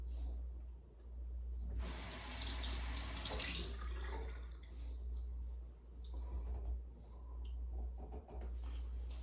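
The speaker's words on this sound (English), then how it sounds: "And because of this razor design, it rinses out pretty easily." A razor is rinsed under a running tap after shaving a thick beard, the water splashing loudly for about two seconds before settling into a steady, softer flow that runs throughout with no talking.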